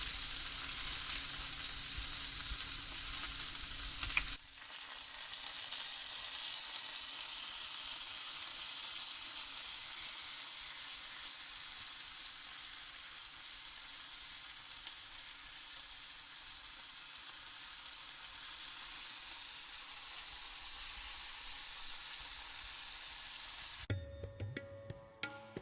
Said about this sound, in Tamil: இப்போ நாம் சுத்தம் செஞ்சு வச்ச பிரண்டையை அதோட ஆட் பண்ணி நல்லாவே கிண்டி விட்டுக்கோங்க.